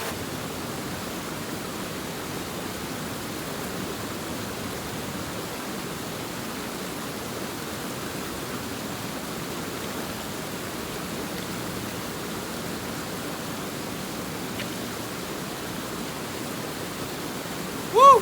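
Rushing stream running high with abundant cold water at a trail crossing, a steady broadband roar that stays constant and close throughout, with a brief louder splash at the very end.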